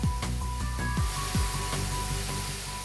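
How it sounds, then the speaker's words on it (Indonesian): A powerful stream of water sprays from a container ship's hose with a constant broad hiss, layered over low rumbling machinery and a few sweeping thumps. "Jarak semprotan selang ini sangat mengesankan."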